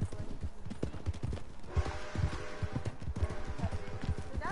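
In Red Dead Redemption, a horse gallops with a steady, rhythmic clip-clop of hoofbeats, close and prominent, with a faint whinny and game ambience beneath.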